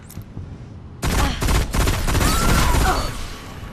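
Pulse rifle firing at short range in the video game Destiny, a dense close burst of rapid repeated shots that starts abruptly and continues loud and steady with brief gaps, no talk.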